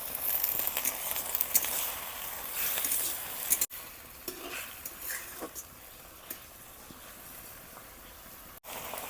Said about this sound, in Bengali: এখন অল্প জল দিয়ে পাতাটাকে ভালোভাবে ভাজে নিই।